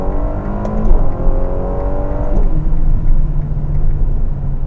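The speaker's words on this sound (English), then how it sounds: "We're gonna get on the autostrada and be able to get a little more speed out of the Portofino." A Ferrari Portofino M pulls hard in third gear after a downshift on the autostrada, its engine note rising steadily and loudly, then settling into a sustained rumbling drone with no talking.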